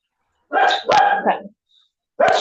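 A small pet dog barks in a home office during an online meeting, giving a few sharp close yaps in quick succession, then a pause and another bark, with a brief spoken word nearby.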